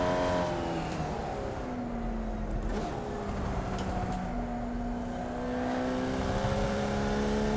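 A race car on a circuit lap, engine note dropping under hard braking, then climbing again as it accelerates, loud and close from inside the cockpit.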